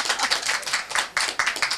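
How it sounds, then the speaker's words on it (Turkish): Several people clapping indoors, quick uneven claps close by, brisk and irregular for under two seconds. "Alkış istiyor herhalde."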